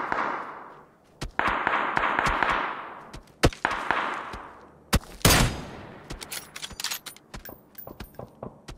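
Gunfire in the video game Escape from Tarkov cracks out in irregular bursts and single sharp shots, some loud and close, others fainter, over a rushing background.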